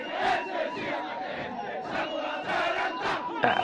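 Indonesian army soldiers chant a rhythmic yel-yel battle cry in unison, a large crowd of voices with loud, regular shouted accents that carry steadily from start to end.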